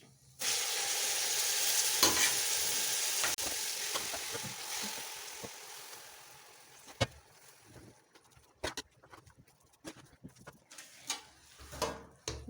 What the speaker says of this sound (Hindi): अब इसके बाद मैं इसमें गाजर डाल दूँ